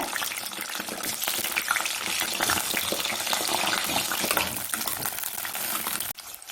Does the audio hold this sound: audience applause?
no